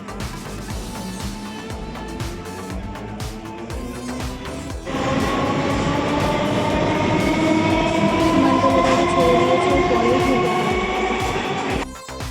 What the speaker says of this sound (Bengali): আমরা যখন স্টেশনে ঢুকলাম তখন এই ট্রেনটা ছাড়লো।